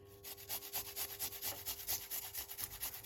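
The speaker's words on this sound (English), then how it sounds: "But when you grate it like this, you get a lot from the garlic." Garlic grated by hand against a grater, a quick run of rhythmic scraping strokes close up and fairly quiet, with no talk.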